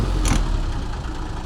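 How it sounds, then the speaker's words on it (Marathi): A used 13-tonne, 22-foot truck's diesel engine runs loud and close in a brief burst, a deep rumbling drone with a short sharp hiss near the start. "गाडी रेस कर रे बहुत थोडा."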